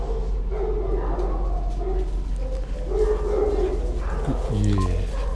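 Two 2-year-old dogs in a shelter kennel make soft woofs and a rising whimpering whine near the end, mixed with a person talking and a constant low hum.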